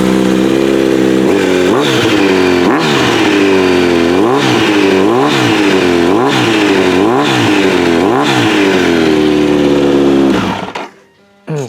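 A Kawasaki Z900RS motorcycle engine runs through an aftermarket muffler, a loud, steady exhaust burble with a rhythmic rise-and-fall pulse repeating about once a second, cutting off abruptly near the end as the engine is shut off.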